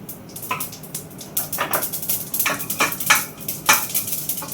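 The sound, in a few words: mustard, fenugreek and cumin tempering frying in oil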